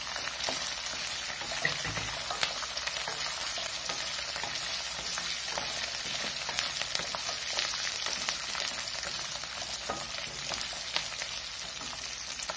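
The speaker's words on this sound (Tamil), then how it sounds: "இப்ப பாருங்க, இஞ்சி நல்லா வதங்குது. கூட பூண்டு போட்டுக்குங்க. எல்லாமே நெய்யில நல்லா வறுக்கட்டும்." Ginger and garlic fry in ghee, giving off a steady, close crackling sizzle with small pops that holds evenly throughout, with no voices.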